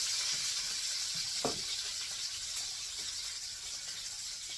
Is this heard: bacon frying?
yes